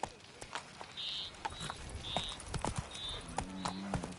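The horse Roach gallops in The Witcher 3, hooves clip-clopping in a steady quick rhythm of sharp hits, with a few brief higher chirps and a low drone over quiet background.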